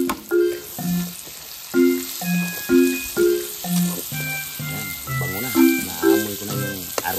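White onion and garlic sizzle steadily in a pan, with a voice talking over the frying.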